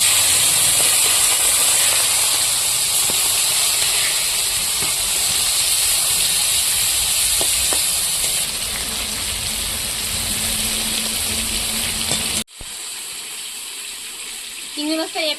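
Marinated prawns frying lightly in a hot kadai produce a loud, continuous hissing sizzle that runs steadily before dropping abruptly to a quieter hiss near the end.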